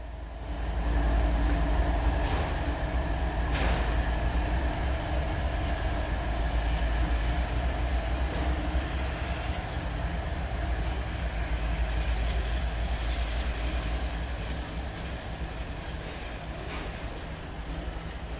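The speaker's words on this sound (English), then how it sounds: "We got the train action." A train rumbles past beyond trees steadily with a deep low roar and faint rail clatter, sustained throughout and gradually fading toward the end.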